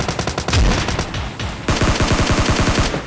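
Rapid automatic gunfire from a PUBG Lite duo-versus-squad battle royale match, loud bursts of dense repeated shots with a brief pause midway, then another sustained rattling volley.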